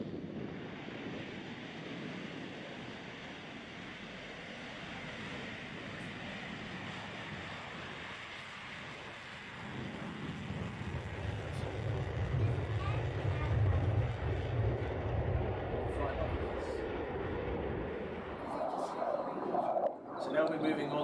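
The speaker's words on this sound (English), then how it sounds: "Watch the burners come out the back." Military jet fighter with afterburners lit at an air show, a sustained broad roaring rumble that swells louder toward the end, with wind noise and people talking over it.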